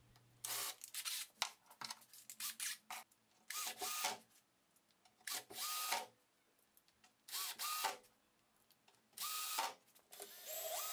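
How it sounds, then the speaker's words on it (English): A cordless drill drives screws into an OSB rolling cabinet in repeated short bursts, each a few seconds of close, whirring buzz separated by quiet pauses, with no talk. "and finally I added the screws."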